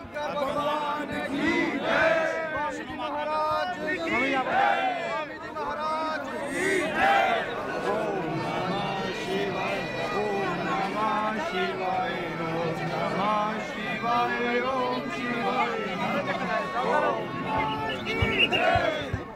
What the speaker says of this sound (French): La foule est déjà si dense qu'il doit être protégé par une garde personnelle.